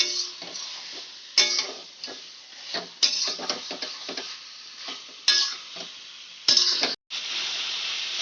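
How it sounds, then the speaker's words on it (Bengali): Chicken frying on a high flame while being stirred in a pan, a loud close sizzle broken by repeated scraping and clinking strokes of the spoon, with no talking. "আমি এরকম হাই ফ্লেমে চিকেনটাকে ভালো করে কষিয়ে নিচ্ছি"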